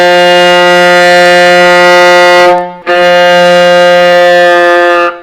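A viola bowed with a broken, crushed tone gives two long, loud sustained strokes, each about two and a half seconds, separated by a brief break, with no voice over them.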